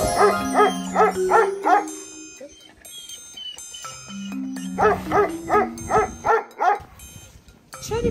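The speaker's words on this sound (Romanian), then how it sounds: "Ce are câinele ăsta ce tot latră atât," A dog barks in two quick bursts of about five sharp, evenly spaced barks each, fairly close and loud, with a steady tone and other background noise between the bursts.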